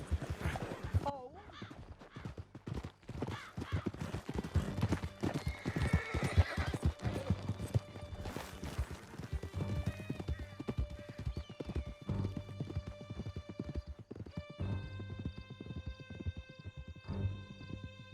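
Horses gallop hard through a canyon in Red Dead Redemption 2, with dense rapid hoofbeats, neighs and whinnies, music and voices mixed in throughout.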